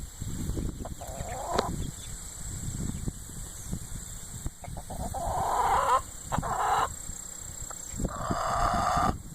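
Backyard hens cluck in short bursts, with a few louder, brighter calls standing out over steady low farmyard noise; the birds sound fairly close.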